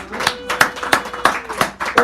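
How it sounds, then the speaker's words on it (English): Sparse, irregular claps from a small audience at a poetry hour in a San Francisco café, a handful of sharp distinct hits spaced about a third of a second apart with a voice speaking underneath. "give her a round of applause"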